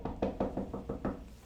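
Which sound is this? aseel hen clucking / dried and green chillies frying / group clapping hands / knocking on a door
knocking on a door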